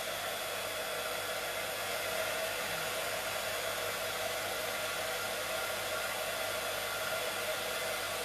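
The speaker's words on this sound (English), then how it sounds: "Just excuse me while I heat emboss the spots." A heat tool blows a constant, even hiss while melting embossing powder on a handmade card, steady and close for several seconds with no voices.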